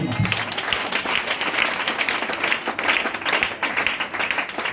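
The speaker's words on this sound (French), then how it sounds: "Est-ce que tu peux donner l'acclamation ce matin?" Church congregation applauding during a sermon, a moderately loud burst of clapping that rises and falls in uneven waves for a few seconds with no clear speech.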